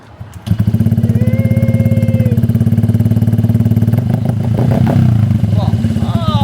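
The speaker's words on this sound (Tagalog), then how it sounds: "Nakakabis naman ng tunog, open pipe." A Honda Click V4 scooter fitted with a titanium-carbon open-pipe exhaust starts up and idles with a loud, rapid popping burble. The throttle is blipped, and voices talk over it.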